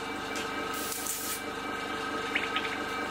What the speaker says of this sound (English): quickly back flush my airbrush.